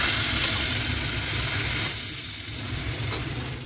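Yogurt goes into a hot tempering of garlic, red chutney and turmeric, setting off a loud, close hissing sizzle that starts strong and slowly fades as it settles.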